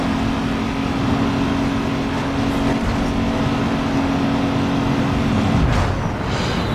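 Car engine accelerating with nitro in Need for Speed Underground 2, a loud steady engine drone with a sustained tone that then drops in pitch, heard alone and close throughout.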